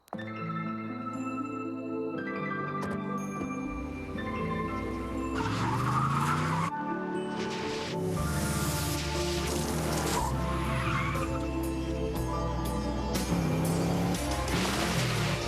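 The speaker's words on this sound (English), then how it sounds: "The Mercedes-Benz E-Class, perhaps the most beautiful car in the world." A Mercedes-Benz E-Class car drives with tires squealing and skidding under a loud, continuous music bed, the engine and screeching tires mixed in with the music throughout.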